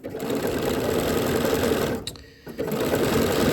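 A sewing machine stitches stretchy swimsuit fabric in a steady, fast whir, pausing briefly about two seconds in before resuming at the same close, even pace.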